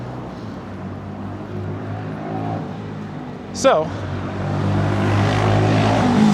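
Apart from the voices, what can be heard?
street traffic noise in Ecuador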